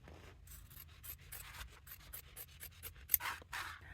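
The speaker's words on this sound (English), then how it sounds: "grab scissors and just cut open at the bottom" Scissors cutting open the fabric lining at the bottom of a handbag, a close, quiet run of rapid snipping and rasping strokes with uneven rhythm and no talk.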